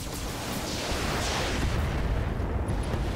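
Weapons fire and a heavy explosion from mech combat in the BattleTech game Roguepoint, a dense, loud, sustained roar of blasts and rumble filling the whole moment with no talk over it.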